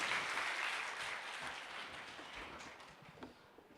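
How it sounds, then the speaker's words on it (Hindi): Applause from an audience gathered for a Jain religious discourse, a broad wash of clapping that is fairly steady at first and gradually thins toward the end, with no speech over it. "सभी लोग एक बार भैया जी के लिए कुछ तालियां बजा दें।"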